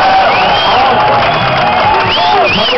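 A large crowd at a bass fishing tournament on the Delaware River cheers and whoops loudly. Shouts and high calls rise over a continuous roar throughout.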